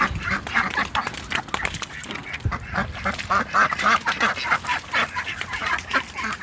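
Several ducks quack in busy, overlapping bursts nearby, a continuous chatter of calls with no talking.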